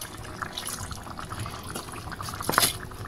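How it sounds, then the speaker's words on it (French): Water poured into a simmering bolognese sauce with carrots, onions and peppers, giving a brief close splashing and trickling that swells near the end. "J'ai rajouté un peu d'eau."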